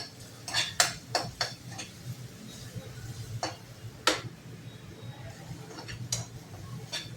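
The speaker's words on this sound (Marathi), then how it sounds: "तेलामध्ये बारीक गॅसवर असं एकसारखं हलवायचं आहे, परतून नाही द्यायचं आहे." Spices such as coriander, cumin and fennel are stirred in oil in a pan over a low flame, with a cluster of quick metallic taps and clinks and then sparser knocks over a soft background.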